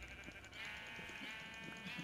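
A sheep bleating in the video game Minecraft, one drawn-out bleat heard faintly over quiet background sound.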